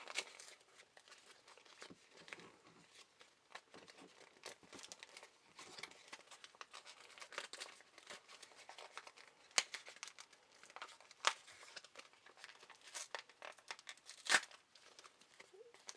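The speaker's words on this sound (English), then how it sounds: "It's just getting all tore up." A Bakugan Battle Planet Battle Brawlers booster pack wrapper is torn and crinkled open, a steady close stream of papery rips, rustles and crackles with a few sharper tears over about sixteen seconds, no talking.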